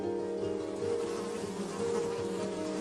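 A swarm of bees trailing a man on a Sardinian island hums in a dense, continuous drone, close and fairly loud, with the pitch wavering slightly as individual insects pass, and no voices over it.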